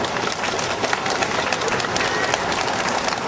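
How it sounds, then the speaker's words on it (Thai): Crowd applause at an outdoor ceremony in Chachoengsao province, Thailand, marking the first pork shipment to Russia: a dense, continuous wash of clapping holds steady throughout, with some voices mixed in. "ขอเสียงปรบมือด้วยครับผม"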